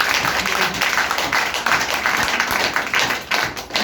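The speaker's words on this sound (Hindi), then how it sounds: "सबसे एक बार जोरदार तालियां मेरे गुरुजी के लिए" Dense, sustained applause from an audience at a training centre closing event in Janipur, many hands clapping loudly and continuously without a break.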